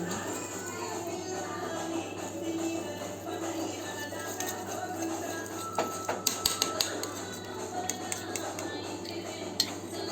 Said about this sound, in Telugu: అది ఒక bowl మిల్క్లో 2-3 spoons custard powder mix చేసి పెట్టుకోవాలి